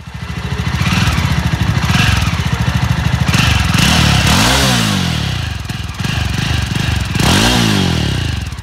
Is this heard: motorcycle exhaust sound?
yes